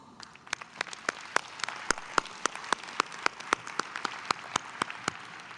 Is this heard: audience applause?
yes